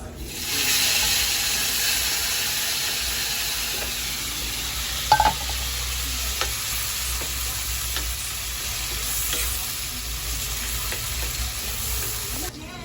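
Tomatoes and marinated meat for menudo sizzling and frying in a pan, a steady close hiss with a few stirring clinks and scrapes, no talk.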